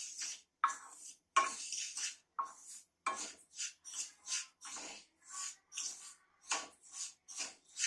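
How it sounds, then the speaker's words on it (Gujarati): Sesame seeds roast over a low flame in a pan while a spoon stirs them, making repeated rhythmic scraping and rattling bursts against the metal, close and fairly quiet with brief pauses between strokes. "તલને આપણે હવે થોડીક વાર શેકશું"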